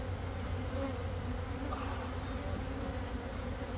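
Carniolan honeybees drone in a steady, dense buzz throughout a hive inspection, close and continuous without pauses or speech.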